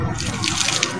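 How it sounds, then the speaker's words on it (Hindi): A rubber neti tube is rinsed under a running tap, giving a steady, close rush of splashing water with no voices. "पहले इसको पानी से धोकर साफ किया जाता है"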